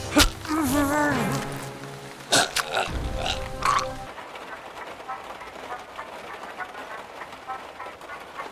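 Steady rain hisses in a video game, a soft even wash filling the second half after brief spoken and sung voices and a couple of sharp thuds at the start.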